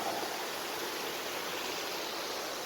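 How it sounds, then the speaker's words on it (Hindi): Water flowing steadily out from upper ponds during monsoon rain, a continuous broad rushing hiss like a stream or small waterfall, loud and unbroken throughout with no voices. "ये पानी है जो ऊपर के तालाबों से निकल रहा है लगातार।"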